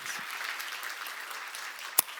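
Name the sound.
audience applause in a church seminar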